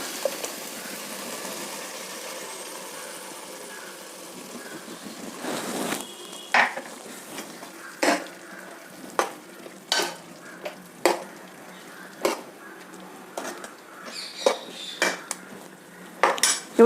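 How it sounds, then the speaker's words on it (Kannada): Ground tomato-onion paste being stirred into fried tomatoes in an oily pan for an avarekalu (field bean) saaru, with a soft sizzle and a run of sharp spoon scrapes and clinks against the pan, close and without talk. "ಟೊಮೆಟೊ ಈರುಳ್ಳಿ ಎಲ್ಲನೂ ಇವಾಗ ರುಬ್ಬಿಟ್ಕೊಂಡಿರೋ ಮಿಶ್ರಣನ ಸೇರಿಸ್ತೀನಿ"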